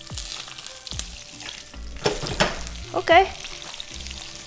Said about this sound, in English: let's fry it for another 3 minutes